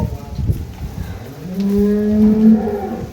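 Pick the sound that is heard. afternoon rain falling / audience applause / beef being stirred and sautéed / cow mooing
cow mooing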